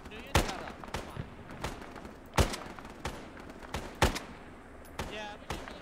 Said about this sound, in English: Lay down suppressive fire on that treetop, that hilltop.